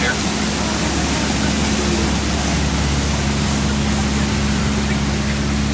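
Waterfall on the Jungle Cruise ride at Magic Kingdom, a steady loud broadband rush of falling water, constant and close, with a boat engine hum underneath and a guide talking over it.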